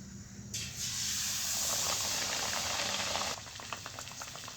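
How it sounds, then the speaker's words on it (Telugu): Ariselu, a sweet rice-flour dough, dropped into hot oil for frying, giving a sudden loud bubbling hiss that holds steady for about three seconds before easing to a softer sizzle with scattered pops. "ఇప్పుడు తీసి నూనెలో వేసేసుకుందాం."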